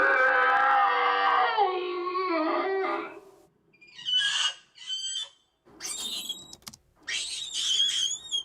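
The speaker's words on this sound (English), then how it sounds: "But I looked for other animals that were squealy and a bit off." Squealy animal calls gathered as raw material for raptor dinosaur sounds: a long warbling squeal followed by several short, high, chirping squawks in separate bursts, close and alone.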